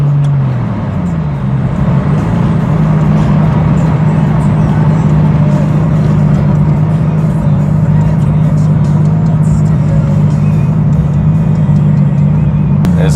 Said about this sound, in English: it hazes the tires pretty good with no traction control on at all